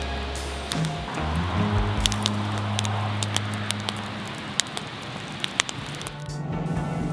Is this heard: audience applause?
no